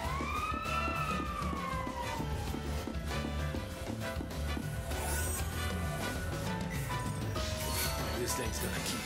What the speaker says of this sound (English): Shut off your sirens, man.